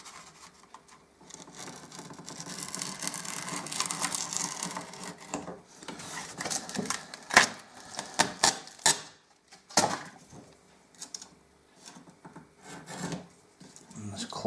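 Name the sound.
cutting off excess paper for an inlay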